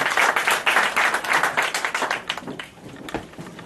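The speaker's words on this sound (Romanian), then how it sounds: "aplauze pentru Sterian." At a folk music festival, the audience applauds a jury member as he is introduced. The clapping starts dense and lively, then slowly thins into looser, fading claps.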